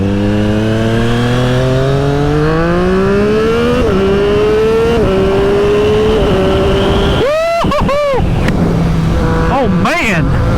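A Triumph Street Triple 765 RS motorcycle with a SPARK exhaust climbs steadily through the revs in a loud, close engine note, then gives several sharp throttle blips near the end.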